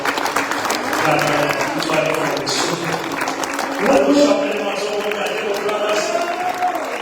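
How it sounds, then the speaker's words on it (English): A church congregation claps hands together to welcome their Archbishop, a dense steady patter of applause with some crowd voices and a talking voice mixed in throughout. "Now I want us to just clap our hands as we welcome our Archbishop."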